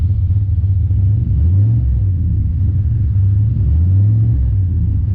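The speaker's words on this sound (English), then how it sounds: "So let's do a couple of revs." A modified HSV VF Maloo ute engine, boosted to around 600 rwhp, rumbles loudly up close and is blipped through two rising and falling revs over a deep idle, with no talking.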